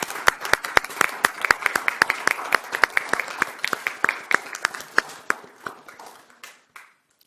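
A council meeting audience in Columbia Heights applauds library volunteers, a steady run of sharp, fairly close claps that thins out and fades to silence near the end.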